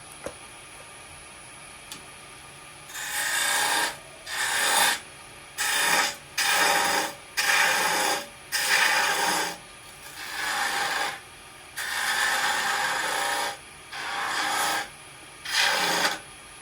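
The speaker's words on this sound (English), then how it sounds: "This is all the waste wood that we're chopping into at the moment." A lathe tool cuts into waste wood on a falconry lure handle, rough rasping cuts in repeated bursts of a few seconds each, separated by short pauses, loud and close, with no voices.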